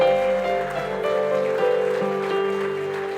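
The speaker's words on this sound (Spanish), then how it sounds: "Dale un aplauso al Señor" A church congregation claps at a Spanish-language service, a dense, even patter of many hands that keeps up steadily for the whole stretch.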